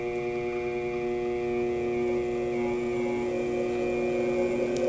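An electric motor runs in reverse on a Minarik RG6xU drive, giving a steady tonal hum with harmonic whine. It sounds close and even and stays level throughout.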